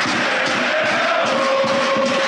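Massed voices of Lokomotiv Plovdiv supporters fill a football stadium with continuous cheering and chanting, loud and unbroken throughout.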